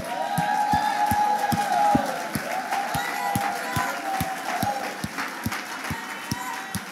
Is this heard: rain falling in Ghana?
no